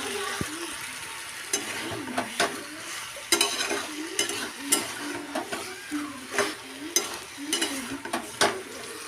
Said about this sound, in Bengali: লাউগুলো দিয়ে ভালো করে কষিয়ে নিলাম